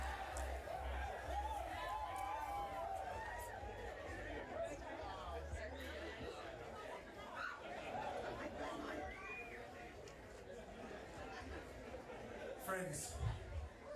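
A large crowd chatters and murmurs at a South Australian election night gathering as a speaker begins, with a single voice rising over the steady babble throughout.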